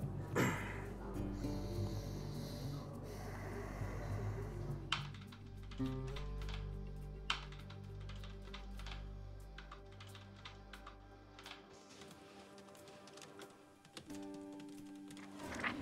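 Fast, uneven keyboard typing while a news story about a dark money case is written, clicking close up under a low steady music bed, with a few louder isolated keystrokes.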